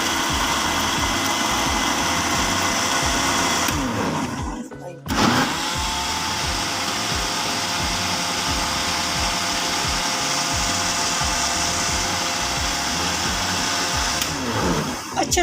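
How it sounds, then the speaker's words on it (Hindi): A blender whirs loudly and steadily while mixing a fruit milkshake of fruit and milk, with one brief stop partway through before the motor runs on again; faint talk sits under the noise. "अभी हम मिल्क शेक को ब्लेंड कर लेंगे।"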